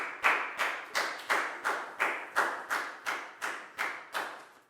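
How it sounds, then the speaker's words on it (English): Schoolchildren in a Year 4 maths classroom clap together in about a dozen evenly spaced, crisp beats, a steady unison rhythm that stays close and moderately loud with no talking. "a big round of applause for Lakgao"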